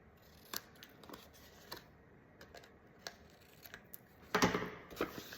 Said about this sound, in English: And then I just take my scissors